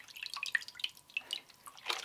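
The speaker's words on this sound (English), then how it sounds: "Ooh, there's lots of bubbles coming out." Bubbles escape from a submerged Bell and Howell Worklight 360 under water, giving quick, faint, irregular bubbly plinks and drips that come close together, with no voices.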